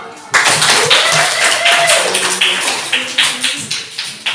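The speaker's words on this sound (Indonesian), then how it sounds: "Terima kasih buat hari kita, tepuk tangan dulu." Children in a classroom clapping hands together after a short prayer at the start of a lesson, starting abruptly with a burst of close, sharp claps that become a loose rhythmic pattern, with a few tonal voices mixed in.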